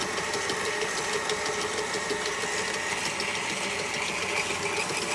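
A KitchenAid stand mixer beats cookie dough at speed, its motor giving a steady, even whirring drone with a fine mechanical rattle throughout and no voices.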